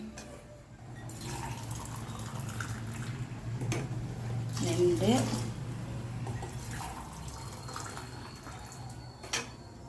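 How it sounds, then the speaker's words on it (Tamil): Hot water pours steadily into a pot of kodo millet pongal with a running, splashing sound, while a person talks over it. "இப்போ நான் தண்ணி விடுறேன் பாருங்கள்."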